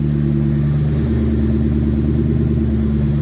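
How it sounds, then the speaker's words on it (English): A 2004 Mustang Cobra engine idles just after startup on a startup tune, slightly high, a loud, steady, close rumble with an even pulsing throb and no talk. "The idle's a little bit high, but I mean, we are just on a startup tune"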